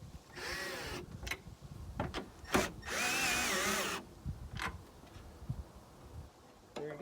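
A Land Rover Discovery battery hold-down is tightened with short bursts of a whirring power tool, several separate runs broken by clicks and pauses, close up.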